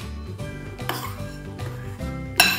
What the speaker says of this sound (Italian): Dopo che ho mescolato il burro da solo, aggiungo un po' di zucchero